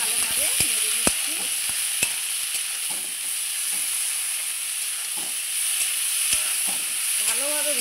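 Flat beans fried with salt and turmeric, a steady loud sizzle under scattered scrapes and taps of a spatula stirring in the pan.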